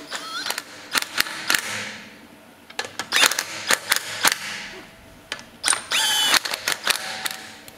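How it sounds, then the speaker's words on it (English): An impact driver snugs up black wheel bolts on a VW Transporter T6 van: loud bursts of rapid hammering, several short rattling runs separated by pauses, close by. "then we'll use our little impact driver just to tighten them up a little bit"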